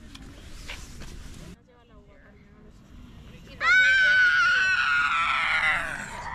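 Children shout and scream loudly while playing outdoors in Granada, Spain. A sustained, high burst of yelling rises after quieter background noise and calls.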